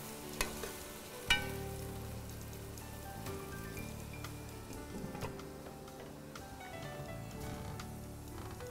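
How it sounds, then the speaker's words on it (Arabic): Food sizzles and crackles steadily in a hot pan while being stirred for a Hadrami home-cooked dish, with a few louder clanks of the utensil against the pan near the start; no one speaks. "خليه يقلي يستوي كذا بس."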